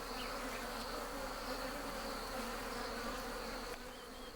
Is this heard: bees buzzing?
yes